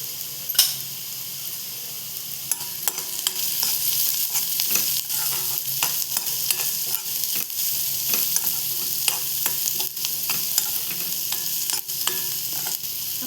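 Onions and turmeric fry for a chilli thecha, giving a steady close sizzle throughout, broken by repeated scraping stir strokes in the pan, with no talking.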